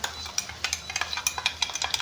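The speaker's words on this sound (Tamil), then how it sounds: "நல்லா நம்ம கிண்டி வைக்கணும்." A bottle gourd curry is stirred in a pan, giving quick, irregular scraping and clinking strokes over a soft sizzle, close and steady.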